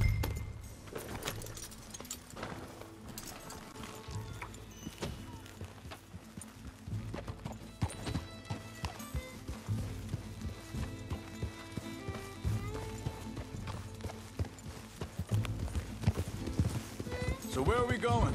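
Horse hooves clip-clop in Red Dead Redemption 2, a steady walking beat running beneath character dialogue and a continuous music score.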